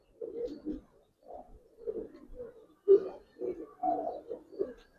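Giribaz pigeons coo in an old-style loft, a run of soft, throaty, rolling calls repeating close by in short bursts with brief pauses between them.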